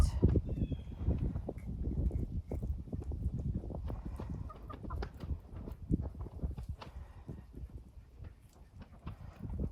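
Chickens clucking on a rabbit-butchering farm, mixed with scuffling and handling noises, fairly close and steady throughout with no speech.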